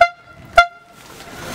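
Two short, loud honks from a car horn, sharply separated, with quieter background noise and low voices after them at a New Year's Eve gathering.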